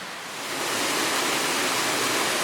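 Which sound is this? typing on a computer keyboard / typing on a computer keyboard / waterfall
waterfall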